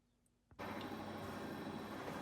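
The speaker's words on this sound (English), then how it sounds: "You have to excuse the noise of my pellet stove in the background" Pellet stove running in a workshop where a Leslie amp is being restored, a faint steady hum and whoosh beneath a louder broadband noise that cuts in suddenly and continues evenly.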